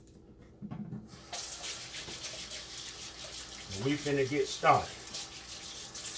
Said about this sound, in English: Let me wash my hands with some water and soap and water on these hands here